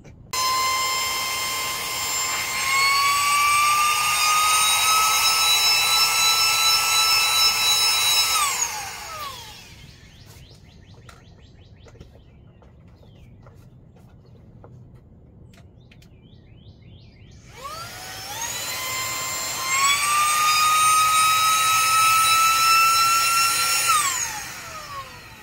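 A small handheld SAKERPLUS 3-in-1 vacuum whines at a high pitch for about eight seconds, stops, then starts again for a similar run. Its motor spins up and winds down audibly each time, close and steady, with no talking.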